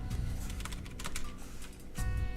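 Rapid keystrokes clatter on a computer keyboard, steady and close, with a short pause before a fresh burst of typing near the end.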